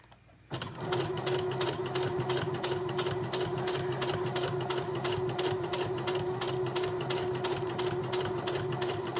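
A sewing machine runs steadily at close range, stitching fabric in one continuous, even, rapid hum with a fine rhythmic needle chatter that starts abruptly and holds for nearly nine seconds.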